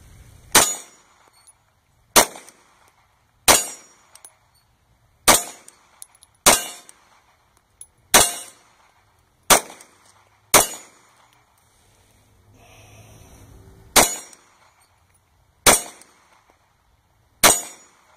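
An FNX 45 pistol fires at steel targets outdoors: about a dozen sharp shots, each followed by a ringing metallic clang, spaced roughly one to two seconds apart with quiet gaps between.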